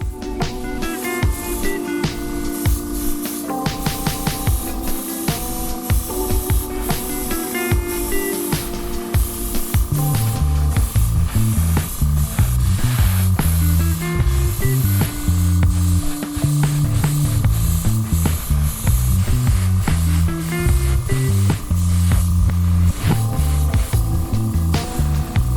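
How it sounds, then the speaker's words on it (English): Clear coat is sprayed from an aerosol onto a Tamiya 1/24 Subaru BRZ model car body, giving repeated hissing bursts and close, steady spray noise with faint clicks. "I hit the body with another heavy layer of the clear coat"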